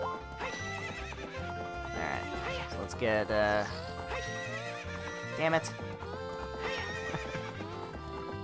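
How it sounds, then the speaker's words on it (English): Horses neigh and their hooves clip-clop in the video game Zelda: Ocarina of Time, with two sharp whinnies standing out over game music while someone talks over it. "Damn horses in the way."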